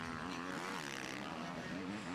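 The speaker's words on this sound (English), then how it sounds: "Listen to the high-revving KTM 350 of Tony Cairoli as he went in pursuit of the diminutive German Max Nagel." A KTM 350 motocross motorcycle at high revs during MXGP qualifying on a loamy, slick track gives a steady, loud, buzzing engine drone that holds throughout, with rising and falling pitch and no talk over it.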